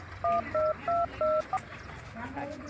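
A telephone keypad dials a quick run of four evenly spaced tones and then a short fifth, clear and fairly close, over household background noise with people talking nearby.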